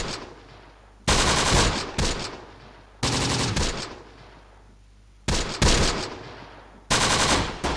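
Machine gun fire in the World War II strategy game Close Combat: The Bloody First, loud bursts of rapid automatic shots repeating several times, separated by short gaps with fading echoes.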